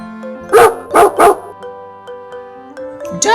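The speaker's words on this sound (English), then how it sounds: "Dog. Dog." A dog barks three times in quick succession, loud and close, over quiet background music.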